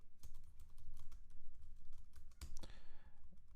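Code being typed on a computer keyboard: quiet, rapid, uneven key clicks in bursts, with a brief louder clatter near the end, close up and on its own.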